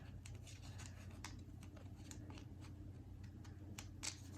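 Scissors trim the edge of a paper card with a series of soft, close snips and rustles, quiet and irregular, with no one talking.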